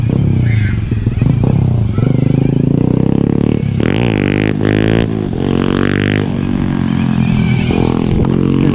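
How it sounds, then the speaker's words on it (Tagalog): A motorcycle engine rumbles and revs close by on a street at night, rising and falling in pitch as it passes, with steady loud noise throughout. "Bawal dito yan eh. Bawal yung motorsiklo."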